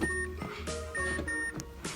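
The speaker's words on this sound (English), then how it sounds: "If I push the gas pedal, it moves the throttle body." Electronic throttle body on a 131,000-mile Mazda RX-8 R3, ignition on with the engine off, whirring as the gas pedal is pressed: several short, close motorized buzzes and clicks in quick succession.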